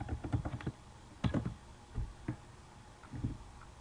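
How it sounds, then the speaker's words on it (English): Computer keyboard typed in short bursts of soft clicking keystrokes, with pauses between the clusters; fairly quiet and close, with no talking. "Go to the top search bar here and type in Twitter."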